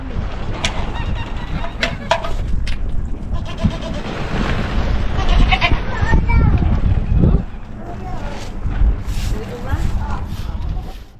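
Goats bleat repeatedly on a farm, several near calls rising over a busy mix of animal noise and voices talking throughout.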